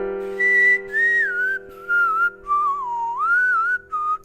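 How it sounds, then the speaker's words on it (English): Close, clear whistling drawn in on an inhaled breath, a wavering melodic line in several phrases with short pauses between them, over a steady low background hum. "I whistle inwards."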